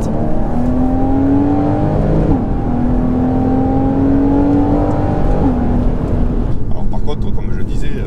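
Porsche Cayman S 981 engine pulling hard under acceleration, a loud, steady engine note climbing in pitch through several gear changes, each marked by a quick drop before rising again, with the tone fading near the end.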